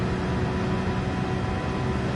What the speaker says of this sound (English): Got my fan going in the background.